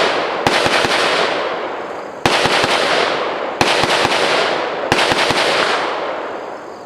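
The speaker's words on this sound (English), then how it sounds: "he's gonna start shooting again" Gunshots at a shooting range crack out in four short groups of rapid sharp reports. Each burst rings out loudly and decays into the surroundings, with no talking in between.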